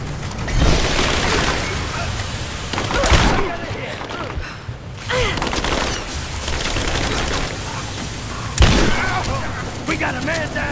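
Heavy gunfire rattles through a Rise of the Tomb Raider firefight, loud sustained bursts with booming impacts and explosions, while voices shout over the barrage.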